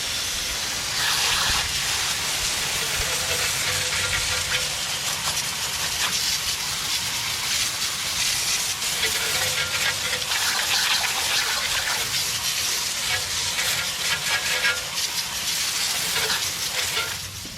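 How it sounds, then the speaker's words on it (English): A hissing water spray rinses a BMW M2 Competition wheel, a continuous close-up gush with slight shifts in intensity as the stream moves across the rim. "So now we're going to go ahead and rinse this wheel off."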